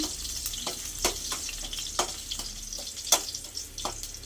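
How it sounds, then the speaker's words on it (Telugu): Ginger crackles and spits in hot oil, with sharp popping bursts over a steady sizzle and occasional stirring. "ఆయిల్లోనే వేయించుకోవాలా"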